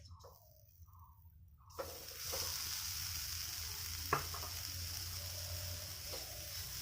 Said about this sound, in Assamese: এতিয়া এইখিনি নাৰিকলখিনি অকণমান শুকান হৈ যোৱালৈকে লৰাই থাকিম।